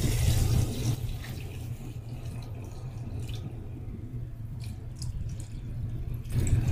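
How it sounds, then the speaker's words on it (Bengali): Water is poured into a cooking pan of lightly browned potatoes, a rushing splash that starts loud, eases into a lower bubbling flow, then swells again at the end, close up with no voices. "এটার মধ্যে পানি দিয়ে দিচ্ছি।"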